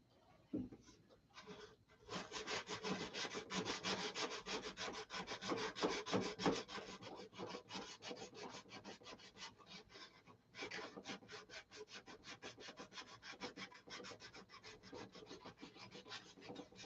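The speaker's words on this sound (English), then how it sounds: "So, once again, what am I doing? Sanding." Steady rhythmic sanding, a rough rasping scrape repeating back and forth for a long stretch, pausing briefly partway through.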